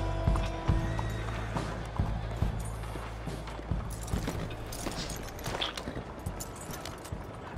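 Horse hooves clop and shuffle as horses are hitched in Red Dead Redemption 2, a string of close, uneven thuds over ambient game sound with a steady low hum.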